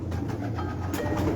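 Pigeons kept on a rooftop in Karachi, including Kamangar, Golden and Kasuri breeds, give low, murmuring coos under a steady background hum.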